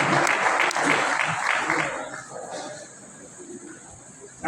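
An audience at a Christmas program in a gospel church claps in a dense burst of applause that tapers off after about two seconds, leaving faint room noise.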